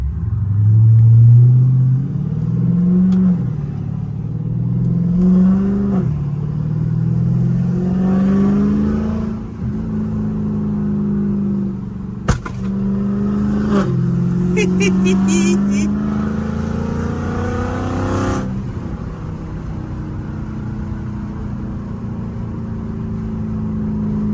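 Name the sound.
tuned car engine driving and revving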